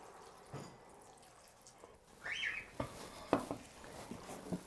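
Water pours and splashes into an Instant Pot while cooking minestrone soup, faint trickling with a few brief drips and splashes, quiet and close, no voices.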